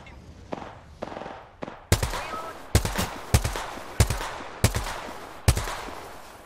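Gunfire in the video game Apex Legends: a rapid series of sharp, loud shots, first a few quieter ones, then heavier cracks roughly every half second, each trailing off into a short echo.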